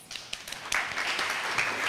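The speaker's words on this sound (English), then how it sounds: "a round of applause" Audience applause at a secondary-school debating competition in Dominica, a steady wash of many hands clapping that thickens after a brief, thinner start, with no one talking.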